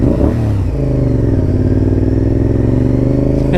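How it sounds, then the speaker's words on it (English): Vehicle engine revving loud and close, a rough, throbbing mid-range roar held steady with slight clatter for several seconds. "Give those kids a little rev."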